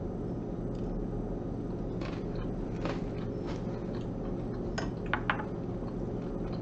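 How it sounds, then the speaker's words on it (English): Close-miked chewing of a hot stuffed Cornish game hen, with soft wet bites and a few sharper crunches against steady low background hum; no talking. "You can hear me chewing on my microphone"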